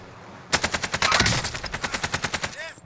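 Automatic gunfire from a video game cracks out in rapid, evenly spaced bursts after a brief quiet start, loud and close, running steadily to the end with a short tonal chime at the close.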